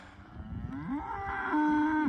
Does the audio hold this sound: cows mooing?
yes